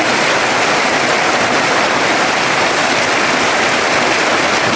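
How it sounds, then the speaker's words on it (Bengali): Heavy rain and water pour down in a flood amid strong wind, a dense, unbroken roar of splashing that stays loud and even throughout. "আর পানি তো কীভাবে পড়তেছে দেখেন কতটা বৃষ্টি হয়েছে"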